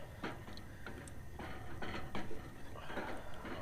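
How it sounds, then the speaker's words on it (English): Chuck wagon beans stirred in a pot, a spoon scraping and knocking against the sides in several repeated strokes, close and fairly quiet. "now I'm just going to stir this and start letting this simmer together"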